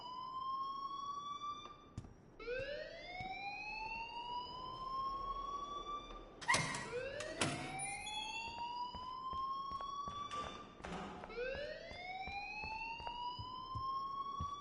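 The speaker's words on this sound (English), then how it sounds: "please turn off that alarm since that's your job" Rising electronic alarm in the video game Life is Strange, repeated upward-sweeping siren tones whooping again and again, with a few sharp clanking hits cutting through in the middle.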